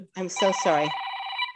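A telephone rings in a rapid, bright electronic trill through most of a short stretch, with a woman apologising over the start of it in an interview setting.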